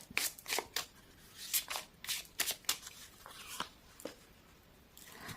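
Playing cards shuffled during a tarot-style love reading, a string of quick crisp riffling bursts and soft slides, close and alone with no talk.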